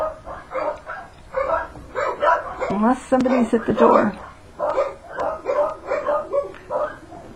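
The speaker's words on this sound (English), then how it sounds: "I don't know why my dogs are going crazy, but there must be another dog out there." Several dogs bark excitedly and continuously at home, apparently reacting to another dog outside, with yips and whimpers mixed in while a person talks over them.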